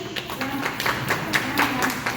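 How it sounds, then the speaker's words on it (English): An audience claps for a young girl named Vijayashree: a quick, uneven run of sharp hand claps, fairly close, with a murmur of voices underneath. "Clap for Vijayashree."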